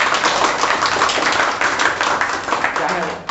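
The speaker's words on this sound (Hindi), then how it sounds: "इसके लिए ताली बजनी चाहिए।" Applause at a talk on handling guests during exam time, dense and sustained clapping from an audience filling the whole span, loud and even with slight swells.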